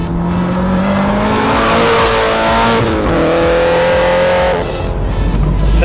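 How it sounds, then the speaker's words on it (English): A supercharged Subaru BRZ/FR-S with an XForce header-back stainless exhaust and high-flow cats revs loud and close, its engine note climbing and dropping in steady sweeps with no talk. "the high flow cats really give the BRZ FR-S a much needed noise and performance lift"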